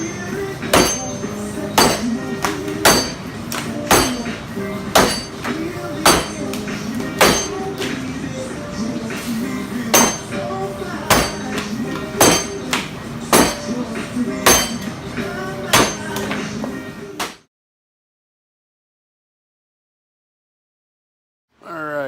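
An axe chops a standing wood block in timbersports event training, with about twenty sharp, close, loud strikes in a quick, even rhythm, then a sudden silence near the end.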